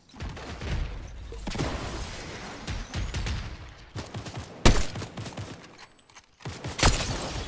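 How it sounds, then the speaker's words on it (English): Rapid bursts of gunfire from a Fortnite Chapter 5 Season 1 Zero Builds match, with loud cracking volleys and sharp single shots. Shorter gaps fall between the clusters of fire, and no one speaks. "We're getting shot at by real people."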